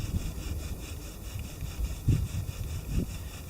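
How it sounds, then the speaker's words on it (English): A wooden bow drill spindle rubs into a wooden board under steady pressure, giving a soft grinding friction with a few rhythmic, slightly louder strokes near the end. "we're going to drill into the board"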